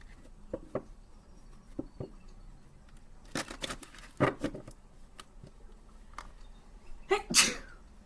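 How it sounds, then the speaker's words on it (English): A sharp, forceful sneeze bursts out up close near the end, after a stretch of quiet rustling and small handling noises. "I've been sneezing a lot"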